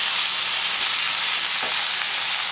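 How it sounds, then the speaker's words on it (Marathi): Mixed vegetables such as potato, carrot, cauliflower, capsicum and beans for a corn curry sizzle steadily in a pan, a close continuous frying hiss with a brief stir midway. "मग यात आपण या सर्व भाज्या वाफवून घेणार आहोत।"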